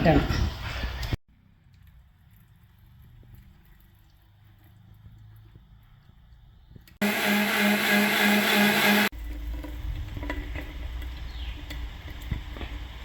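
A mixer grinder coarsely grinds raw rice for neyyappam batter, its motor roaring in a short loud burst, with a briefer noisy burst at the start and quiet stretches between.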